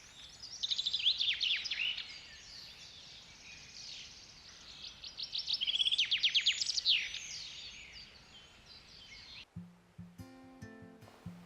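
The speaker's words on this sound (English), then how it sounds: "you can hear quite a few birds chirping right now" Birds chirp and trill in a forest, with bursts of bright, repeated calls at moderate distance that rise and fall over quiet ambience, before a different sound cuts in near the end.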